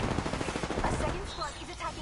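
Rapid automatic gunfire in the Apex Legends video game, a dense burst of loud, closely spaced shots over two seconds with a brief voice near the end.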